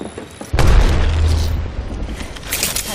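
A frag grenade in a video game detonates with a deep, loud boom, then a rumbling tail that fades over a couple of seconds.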